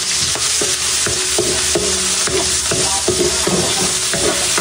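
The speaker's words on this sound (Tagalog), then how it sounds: "Ako po ay magigisa na po na itong bawang at sibuyas." Garlic and onion sizzle steadily in a hot pan while a utensil scrapes and stirs in repeated strokes, close and loud, with no talking.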